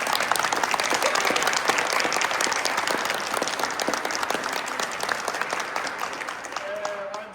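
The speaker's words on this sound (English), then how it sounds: "Another round of applause real quick for class 2." Sustained applause from a graduation audience for a cadet academy class, dense steady clapping throughout with some voices mixed in, fading slightly near the end.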